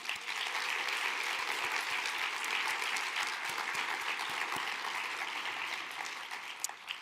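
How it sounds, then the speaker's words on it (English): Sustained applause from an audience at a public service event, a dense even wash of many hands clapping for several seconds before trailing off at the end. "je pense que ça mérite quand même un applaudissement"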